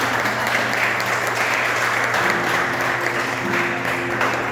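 A church congregation applauds, steady dense clapping that carries on throughout the short stretch with faint voices underneath.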